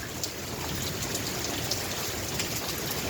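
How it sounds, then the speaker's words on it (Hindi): Steady rain falls and patters on surfaces in a Pakistani village, a dense continuous hiss with scattered drop ticks and no voices. "बारिश काफ़ी हद तक की है।"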